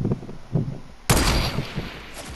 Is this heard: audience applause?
no